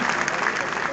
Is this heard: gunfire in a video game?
no